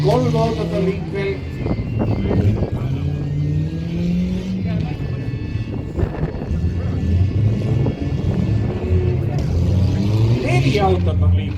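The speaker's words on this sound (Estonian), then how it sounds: "4 autot on liikvel." Engines rev and rise in pitch as a few battered cars keep moving in a demolition derby, mid-distance and steady, mixed with crowd hubbub and commentary.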